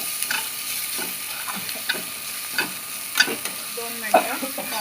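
Garlic and chili paste frying with leftover chapati pieces for chivda, a soft steady sizzle broken by scattered scrapes and taps of stirring, fairly quiet, with no one talking.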